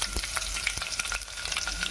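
Onion pieces fry in a pan with curry leaves, giving a close, steady sizzle with small crackles and stirring scrapes throughout, with no talking.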